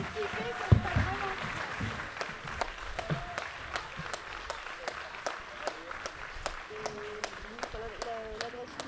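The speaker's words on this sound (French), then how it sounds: "Si vous voulez bien applaudir aussi d'autres enfants qui ont participé" Scattered, fairly sparse handclaps ring out for children who took part, sharp individual claps repeating irregularly over the whole stretch, with adults and children talking underneath.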